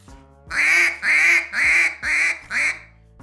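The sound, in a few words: low-toned duck call imitating a coarse duck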